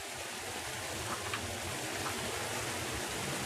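Waterfall in the video game Obduction, a steady broadband rush of falling water with faint droplet splashes, constant and moderately close with no voices.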